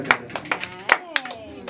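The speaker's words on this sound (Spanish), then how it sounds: "Ese aplauso muy bonito, bendecido" Scattered hand clapping from guests at a quinceañera celebration with a mariachi band, a handful of sharp, uneven claps close by.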